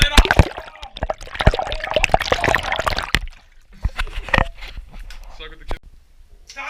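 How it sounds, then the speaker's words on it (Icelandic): Flood water sloshing and splashing inside a flooded house, irregular splashes and gurgles close by, with people talking loudly over it. "Heyrðu, það bara allt á floti. Það bara allt vatn."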